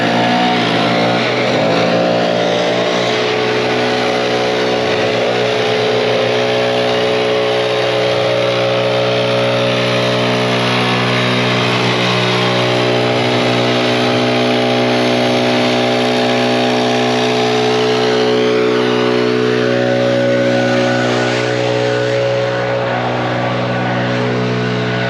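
A gas leaf blower drones loud and close without a break, a constant buzzing engine hum with a rushing air hiss as it pushes a heavy spread of grass clippings; nobody speaks.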